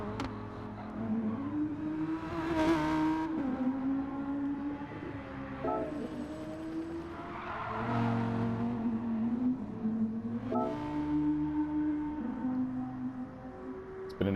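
GR3 race cars lapping the Mount Panorama road course at night in a racing video game, engines droning and revving steadily as cars pass, with rising and falling pitch sweeps throughout.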